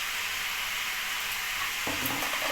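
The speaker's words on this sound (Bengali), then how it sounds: "একসঙ্গে সব দিয়ে আমি নাড়াচাড়া করে একটু ঢাকা দিয়ে দেবো" Squash shoots and shrimp sizzle and fry in a pan as they are stirred, a steady close hiss with a soft scrape of the spoon near the end.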